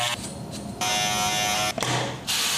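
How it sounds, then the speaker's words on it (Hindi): An electric beard trimmer buzzes in a loud, steady high whine, run in bursts over an already shaved beard, the pitch briefly shifting as it cuts off and restarts. "उसके बाद और ज्यादा प्रीमियम दिखने के लिए जो दाढ़ी पहले से ही शेव्ड है उसके ऊपर ट्रिमर मारना है।"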